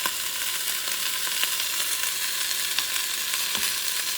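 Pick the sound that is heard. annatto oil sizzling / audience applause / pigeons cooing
annatto oil sizzling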